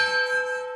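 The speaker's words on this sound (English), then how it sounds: "Gong." A gong struck once in an antiques shop rings out with a steady, sustained metallic tone that slowly fades over under a second, with no voices.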